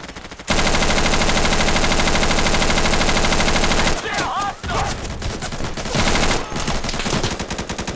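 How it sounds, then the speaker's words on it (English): Sustained automatic rifle fire in the Insurgency shooter, a long unbroken loud burst followed by choppier volleys and a brief gap, with voices talking over the later shots. "He's firing at me."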